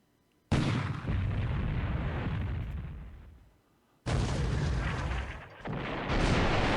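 Naval guns fire in a World War II video game, two long heavy roaring blasts of sustained gunfire, loud and close, the second rumbling on for several seconds with no talking.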